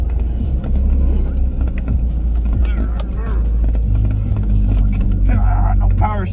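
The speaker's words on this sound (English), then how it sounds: "We are going to drive home." A car without power steering drives along with a low, steady engine rumble and road drone running throughout, while people talk over it.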